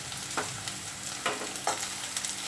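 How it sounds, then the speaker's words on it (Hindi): Finely chopped capsicum and a green chili stirred in a hot pan for chili paneer, a continuous soft sizzle with several spoon scrapes spaced through it. "इसको अच्छे से हिलाएं।"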